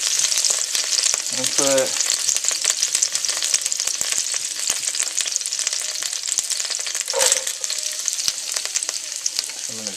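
Onion and carrots fry in a hot pan with a loud, continuous sizzle and crackle and some stirring. A voice speaks briefly near the start.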